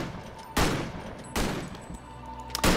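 Three loud, sharp gunshots fired at enemies in the isometric action RPG Victor Vran, spaced about a second apart over a quieter background hum.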